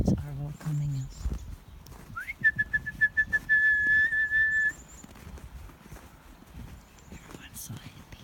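Birds chirp and whistle outdoors in a natural setting, a clear repeated whistled phrase standing out midway, with rustling, thuds and scattered background sounds around it.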